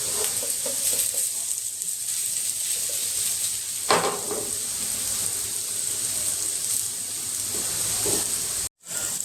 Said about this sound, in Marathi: मिडियम गॅसवर छान असे आपण एकदम मस्त तळून घेणार आहोत